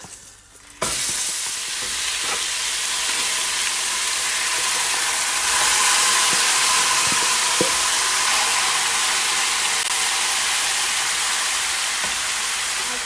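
Oxtails hit a hot pot and sizzle loudly and continuously, a close dense crackle that swells after the first second and holds steady, with occasional stirring knocks and no talking.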